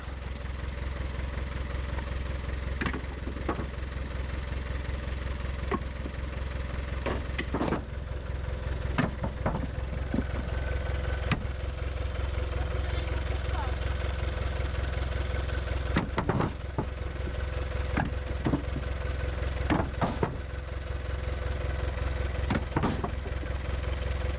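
A loaded three-wheeled vehicle carrying solar panels runs steadily on a rough road, a continuous low engine drone with scattered clanks and rattles, close and fairly loud.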